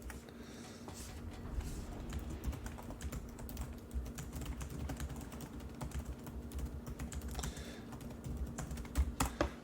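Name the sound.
typing on a computer keyboard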